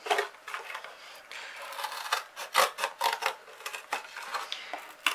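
Rasping, scraping cuts through stiff card, a steady run of rough strokes at close range with short pauses between them.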